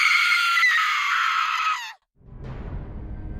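A woman's loud, sustained scream in a horror radio drama cuts off abruptly, followed after a brief silence by a rushing, rustling noise, as if something moves through grass.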